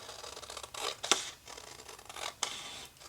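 Scissors snip through layered paper for a scrapbook page, giving two crisp, close cuts separated by soft rustling in a quiet room.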